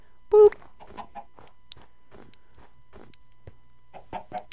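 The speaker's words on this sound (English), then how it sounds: "Chicken! Chicken with an egg." A Minecraft chicken gives a short, clear cluck near the start, followed by quieter scattered game sounds and faint voice-like chatter.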